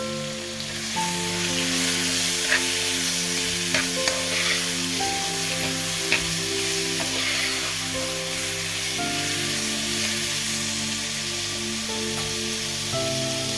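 A vegetable mixture fries steadily in a hot pan, a continuous loud sizzle with a low cooking hum running beneath it throughout.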